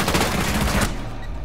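A rapid burst of automatic gunfire in the video game Rainbow Six Siege, loud and close, cutting off abruptly after under a second.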